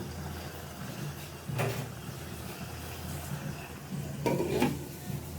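A lid is set onto a pot of chicken for chicken posto over low heat, giving two separate metallic clanks a few seconds apart over a quiet background hum.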